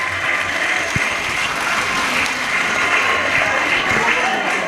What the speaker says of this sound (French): vous demander de le féliciter et de l'applaudir